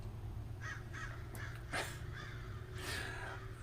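Several crows caw outdoors, giving harsh calls in short bursts with one louder, nearer caw among them, over a low steady hum.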